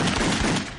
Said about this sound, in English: where you get a different frame and you machine gun them